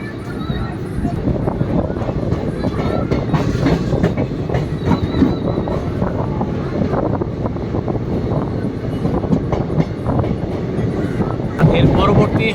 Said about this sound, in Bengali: দুরন্ত গতিতে এগিয়ে চলেছে আমাদের গাড়ি